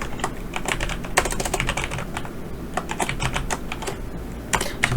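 Rapid keystrokes clatter on a computer keyboard during Excel data entry, a close, steady stream of clicks with louder taps scattered through and no talking.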